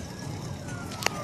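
An ambulance siren wails faintly in the distance, heard from inside a moving car under steady road and engine rumble, with a short sharp click near the end.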